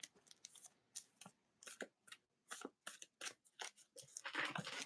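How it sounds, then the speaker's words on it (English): Trading cards for a Dragon Ball Super Fusion World match are shuffled close up in a quiet room, making a series of short crisp riffles and slaps in irregular bursts with brief pauses between them. "I'm gonna start shuffling up here"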